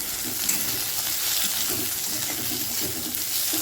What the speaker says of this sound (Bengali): এখন আমি আলুর টুকরোগুলো এই পেঁয়াজের ভিতর দিয়ে